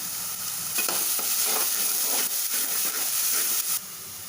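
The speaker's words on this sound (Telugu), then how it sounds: "ఇప్పుడు బాగా వేపుకోవాలి ఉడికిచ్చిన చికెన్ వేసేస్తున్నా" Boiled chicken fries with chili powder and garam masala in a hot pan, giving a loud, close, steady sizzle and hiss broken by rhythmic stirring scrapes.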